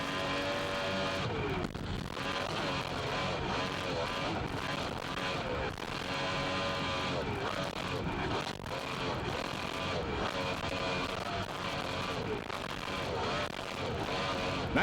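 A 1995 race engine growls and revs in close onboard sound, holding steady throttle with rising and falling pitch, while a commentator talks over it throughout.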